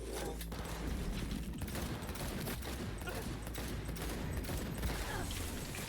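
Bursts of gunfire from the video game Cyberpunk crackle continuously over a dense, loud game soundscape with a low rumble beneath, with repeated sharp shots and no clear pauses.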